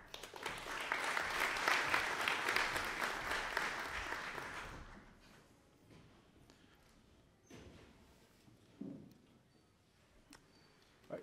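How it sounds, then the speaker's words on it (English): A conference audience at a Python talk applauds to welcome the speaker, a strong burst of clapping for several seconds that cuts off, leaving a quiet room with scattered small thumps and ticks. "Let's welcome Daniel with a round of applause"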